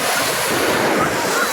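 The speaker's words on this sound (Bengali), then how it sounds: "এটা সবচেয়ে বড় ঢেউ।" A big ocean wave crashing on the beach at Cox's Bazar, a continuous loud roar of surf mixed with wind buffeting the microphone, no talk.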